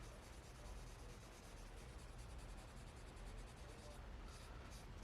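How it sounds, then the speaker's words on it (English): Light, steady rubbing of rolled sanding paper over painted bodywork on a Revell Foose Cadillac Eldorado model car, a soft continuous scratchy hiss held close and even throughout, with no pauses. "I'll roll the sanding paper up a little bit and very lightly rub that area"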